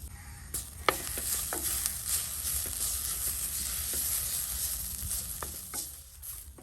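Grated coconut with turmeric powder roasting in a pan, giving a steady soft sizzle with light scraping stir strokes throughout, close and moderately loud, no voices.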